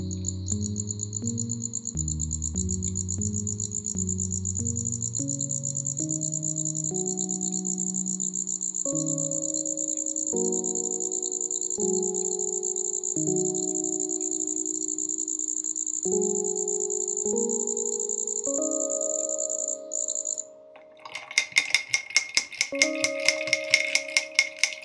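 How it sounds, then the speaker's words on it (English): An American shieldback katydid (Atlanticus americanus) calls from shrubs with a continuous high, thin buzz. A rising, stepped run of lower mechanical tones sounds beneath it, and a dense crackling burst of insect noise takes over near the end. "Or is it the American shieldback katydid, Atlanticus americanus?"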